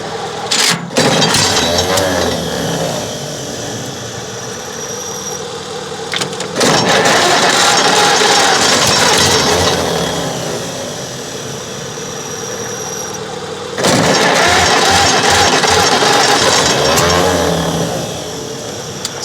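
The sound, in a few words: old Caterpillar D8 bulldozer engine cranking, trying to start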